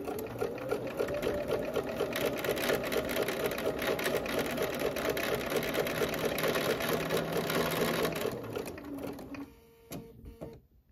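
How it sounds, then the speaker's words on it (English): A sewing machine runs continuously and close, stitching a quilt seam straight through a marked line with a steady rapid chatter for about eight seconds before it slows and stops. "I'll sew right through that line."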